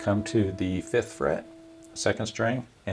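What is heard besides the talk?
No everyday noises stand out.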